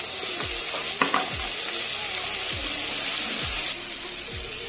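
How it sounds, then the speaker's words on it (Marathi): Chicken masala with tomatoes sautéing in a pan for a chicken tambda rassa, with steady sizzling and repeated stirring scrapes and a few utensil knocks, close and continuous without talk. "खाली असं परतून घेऊया छान असा परतला आहे टमाटे घालून घेऊया"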